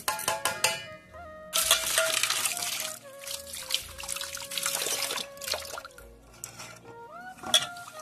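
Aatap rice being washed in water beside a clay stove fire, with splashing, trickling and clinking sounds in short irregular bursts, near and moderately loud.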